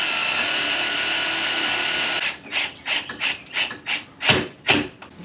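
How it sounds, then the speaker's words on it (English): A drywall screw grinds into wood to make a pilot hole, first a steady harsh rasp, then a series of rhythmic squeaky turning bursts, close and fairly loud. "We're gonna take our wood screw, drywall screw, just to make a pilot hole very easily."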